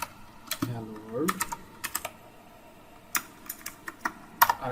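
Typing on a computer keyboard, a scattered sequence of light clicks and key taps in irregular bursts, close and moderately quiet with no voice over them.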